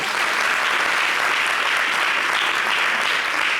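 Audience applause at a live show, a loud, dense burst of many clapping hands sustained evenly throughout, close and without speech over it.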